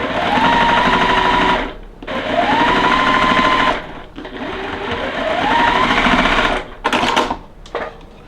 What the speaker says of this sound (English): We will go ahead and start sewing these.